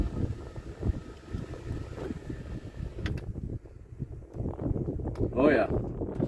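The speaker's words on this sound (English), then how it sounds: "It is very, very windy out right now." Strong wind blowing outdoors near willow trees, a steady broadband rush with gusting swells and buffeting against the microphone, continuous and close throughout, with brief rustles and sounds of movement.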